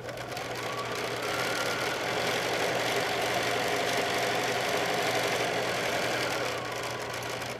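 A sewing machine stitches a seam on a quilt block, running as a continuous, even mechanical whir and rapid needle chatter for several seconds, close and steady, with no talking.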